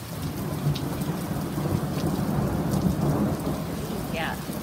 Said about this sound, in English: We got some thunder and lightning, if you guys can hear it.